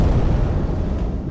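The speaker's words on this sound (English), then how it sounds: "I'm gonna use this flash grenade." A flash grenade goes off in the video game Dave the Diver, giving a loud, dense, rumbling blast that fills the whole short stretch and fades slightly at the end.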